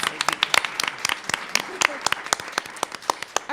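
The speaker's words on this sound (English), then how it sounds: "Let's give Matt a round of applause." Audience applause at an art and geography talk for Matt, a founding member of a brass band: scattered, uneven claps from a modest crowd, fairly close, running steadily throughout with no voices on top.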